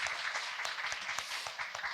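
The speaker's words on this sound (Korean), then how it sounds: "우리 김소영 노무사님 큰 박수 부탁드리겠습니다" A studio audience at a talk show gives a short, quiet round of clapping, with individual claps audible and fairly distant over about two seconds.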